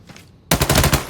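Rapid automatic gunfire in the Arena Breakout shooter game, a loud close burst of repeated shots following a short quieter stretch, with no talking.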